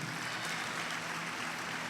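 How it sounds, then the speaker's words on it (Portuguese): Church congregation at an Easter service applauding loudly, a dense steady wash of clapping filling the whole moment with no voices on top. "aplauda bem forte o Senhor por isso"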